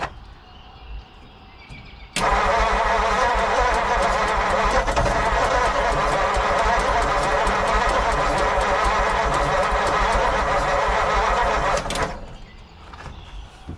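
A 1940 Mercury Eight engine that has sat unused since the 1970s cranks and catches, then runs steadily at a loud, even idle for about ten seconds before cutting off abruptly.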